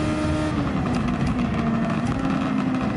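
Superformula race car in Gran Turismo 7 at Fuji, its engine held high and revving hard, a loud, dense, steady mechanical howl with slight pitch wavering and no voices.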